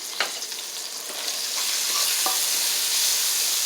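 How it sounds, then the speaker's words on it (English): Vegetables sauteing in a pan while being stirred, a constant loud sizzle with a few sharp scrapes and clicks from the utensil early on, steady and close. "Okay, I got these sauteing."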